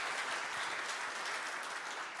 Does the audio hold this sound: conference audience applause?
yes